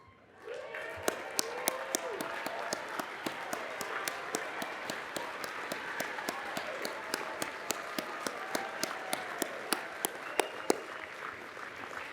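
A large crowd applauds graduating magna cum laude students at Brown University's commencement ceremony, steady dense clapping that holds for several seconds at a moderate distance.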